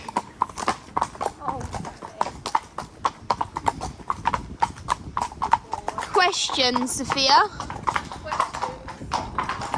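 Steady clip-clop of a pony's hooves, regular and fairly close, runs throughout while people talk over it, and a horse whinnies briefly near the end.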